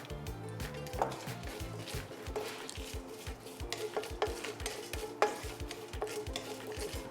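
Curry leaves, urad dal and buttermilk chillies frying in oil in a pan for mor kali, a soft sizzle under steady rhythmic stirring and scraping of a spoon against the pan, close and fairly quiet, with no talking.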